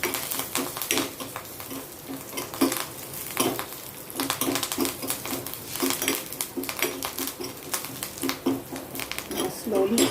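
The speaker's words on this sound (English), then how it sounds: "Now add the curry leaves first." Curry leaves fry and crackle in a pan while a utensil stirs and scrapes against the metal in frequent close strokes, with a voice heard now and then in the background.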